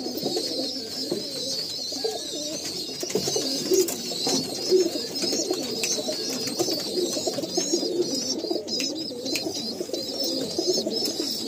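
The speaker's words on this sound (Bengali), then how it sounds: "বাট পায়রাগুলো দেখুন কি কোয়ালিটির পায়রা রয়েছে" Pigeons cooing in a loft, a dense chorus of soft, overlapping low coos repeating throughout at close range, with a faint high background tone and no talking.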